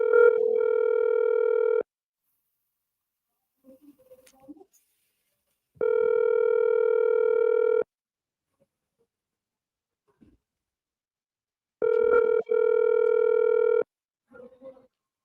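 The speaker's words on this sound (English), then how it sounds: "let me see if you go pick up the phone" A telephone rings back on an outgoing call: three long, steady electronic ring tones about two seconds each, separated by silent gaps, with faint rustling and brief background noises between rings.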